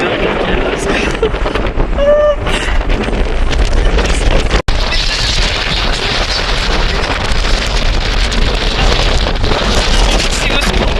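Strong wind roars and buffets the microphone nonstop outdoors in Lyon, France, with a brief cutout midway and a voice briefly heard beneath the rumble.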